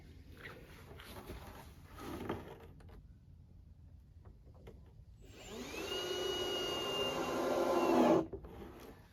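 A power drill set to a limited torque drives a screw into plastic on a homemade dog crate, a short whirring burst near the end following quieter scraping and handling sounds, close and with no talk.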